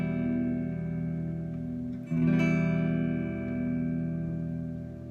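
A guitar chord rings out on the fifth and fourth strings, sustained and fairly soft. A fresh strum partway through renews the ringing tones, which then fade slowly.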